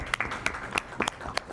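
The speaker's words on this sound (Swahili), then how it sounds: "Tuwapongeze sana na tunapigia makofi." Brief, scattered handclaps from a small audience at a gathering of members of parliament and ambassadors, a few separate claps over murmuring voices.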